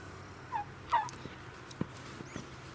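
An injured turkey gives a few short, faint calls and gobble-like notes, spaced out over quiet background noise, heard alone without talk.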